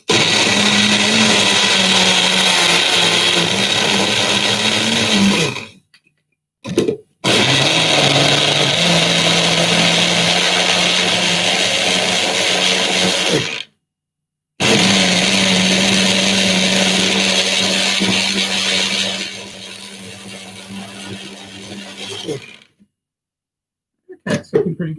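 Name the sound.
blender blending banana and yogurt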